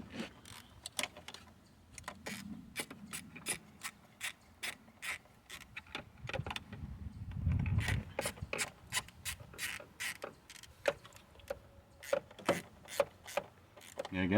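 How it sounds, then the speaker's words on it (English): An 8mm socket on a ratchet tightening bolts on a Ford Windstar engine, giving quick repeated clicking strokes in uneven bursts, close and fairly quiet, with a brief rubbing scrape partway through. "And we'll grab our 8mm socket and ratchet here"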